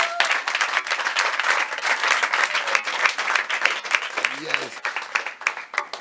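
Crowd applause and clapping for a family at a village gathering, dense and steady throughout with a few shouts, plus a brief spoken word.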